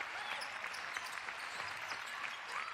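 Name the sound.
crowd applause at basketball game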